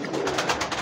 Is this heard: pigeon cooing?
yes